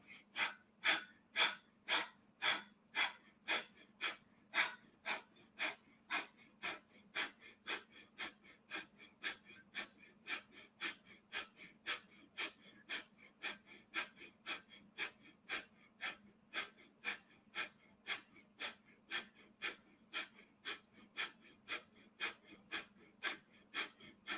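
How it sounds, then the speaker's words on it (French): Steady, rhythmic breathing during a guided meditation exercise, about forty close, soft in-and-out breaths repeating evenly alone in a quiet room, slightly stronger at the start. "Et on respire."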